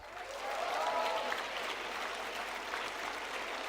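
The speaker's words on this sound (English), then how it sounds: "Please fill the auditorium out with a resounding applause for her." Audience applause in an auditorium at an MBA convocation ceremony, continuous even clapping from a large crowd, moderately distant and steady throughout, with a faint background hum beneath.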